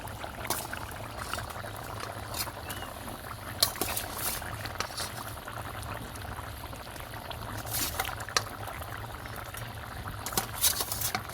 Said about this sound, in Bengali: ঝোলটা ফুটে গেছে, দিয়ে দেবো আমি ভেজে রাখা মাছগুলো।